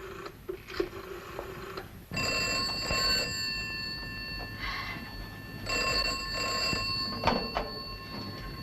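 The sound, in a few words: telephone ringing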